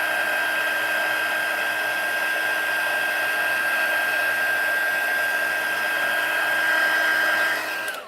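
A heat tool blows a loud, steady high-pitched whine as it melts embossing powder on a card, running continuously before cutting off at the end.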